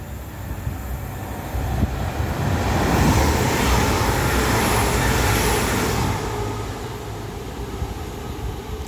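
A Class 196 train passes at Coseley, its rumble and rail roar building from a steady background to a loud peak midway, then easing off gradually without any voices.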